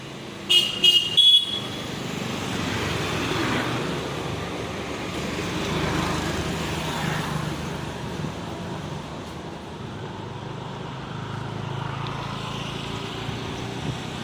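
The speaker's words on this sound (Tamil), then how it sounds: "ஆட்டோவில் போயிட்டு இருக்கோம்" A few quick horn toots at first, then a steady auto rickshaw engine drone and road rumble of riding through traffic in Tiruchirappalli, with distant horns now and then.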